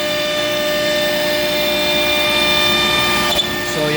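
An Altmill CNC router mills a raised panel kitchen cabinet door, its spindle whining with steady high tones over a continuous cutting and dust-collection roar, with a brief clunk near the end.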